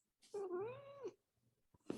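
A single drawn-out cat meow, close and clear, rising and then falling in pitch over about a second, followed by a short quiet stretch and a faint thump at the end.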